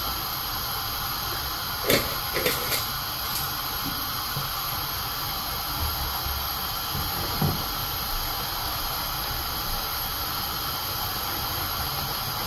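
A steady hiss and bubbling simmer from teriyaki sauce boiling in a pan, with a few faint clinks of utensils now and then.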